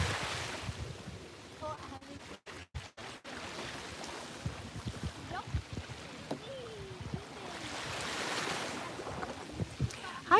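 Steady wind gusts buffet the microphone beside water, rising and falling over lapping waves, with a brief choppy stretch of dropouts early on.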